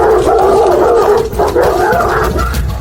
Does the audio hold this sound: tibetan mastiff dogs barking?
yes